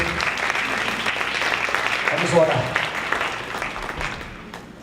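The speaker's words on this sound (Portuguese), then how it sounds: "Dê uma salva de palmas ao Senhor" A church congregation applauds during a worship service, a dense wash of many hands clapping that swells slightly midway, with a voice speaking briefly over it.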